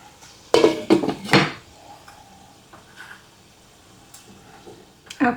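A lid clatters onto a metal skillet holding chicken, rice and broccoli, three sharp clanks close together near the start, then quiet simmering with a faint tap at the end.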